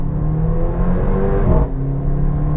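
A Mercedes-AMG GLA 45 with 375 hp revs hard while driving. The engine note is loud and close and climbs steadily, then drops sharply at a gear change before pulling again.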